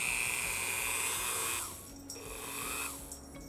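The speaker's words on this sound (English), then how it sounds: "Low speed with a cloth wheel. This is as slow as this thing can go. Sometimes my Dremel won't run this slow." A Dremel rotary tool fitted with a cloth wheel spins at its lowest speed, giving a thin high whine that sags and recovers, with a brief change partway through. It is close and moderately loud.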